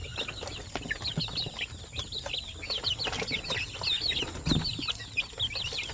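Young Shamo Aseel chickens, about a month old, cluck and chirp in a busy, continuous chorus close by, with occasional soft rustles and wing movement.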